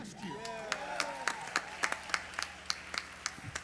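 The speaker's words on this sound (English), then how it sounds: "How about a bigger round of applause if you were with us" Scattered audience applause at an awards gala, a handful of distinct claps popping out over a murmur of crowd and voices, fairly sparse and uneven rather than a full ovation.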